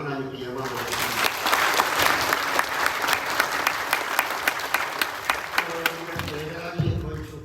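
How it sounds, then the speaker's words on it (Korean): A church congregation claps together during a thanksgiving dedication service for a new sanctuary. The dense, sustained applause swells and settles over several seconds, with scattered sharper claps standing out near the end. "우리 모두가 다 진심으로 하나님께 감사하는 마음을 가지고 영광의 박수를 하면 하나님께 영광을 드립니다."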